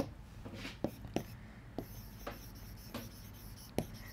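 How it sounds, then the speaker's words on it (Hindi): Marker or pen strokes write a name on a board during a biology lesson on staining with crystal violet: soft rubbing scratches punctuated by several sharp taps, faint and close. "नाम लिख दूं"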